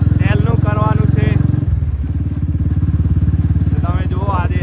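A motorbike rides along a rural road behind a large tractor, its engine throbbing in a steady close, loud pulse while someone talks over it.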